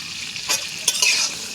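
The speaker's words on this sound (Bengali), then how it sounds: "লবণ দিয়ে পটলটাকে খুব ভালোভাবে ভেজে নিতে হবে।" Pieces of pointed gourd (potol) fry with salt in a pan as a soft sizzle. A few quick stirring scrapes cut in, with no talking.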